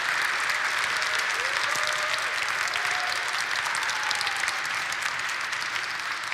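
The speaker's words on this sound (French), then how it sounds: "On peut t'applaudir, Louis." A church congregation at Sunday Mass applauds a newborn baby, producing a continuous, even roar of many hands clapping for over six seconds, with faint voices under it.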